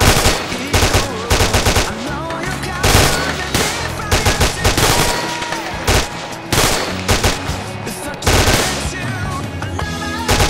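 Machine gun fire in the military video game ArmA 2 during a squad assault, heard as continuous loud, rapid bursts of gunshots that fill the whole stretch with barely any pause.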